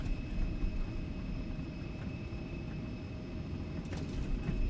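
Embraer E175 jet engines at takeoff power in the X-Plane 12 simulator, a steady low rumble with a thin whine riding above it, constant and moderately loud, with no voices.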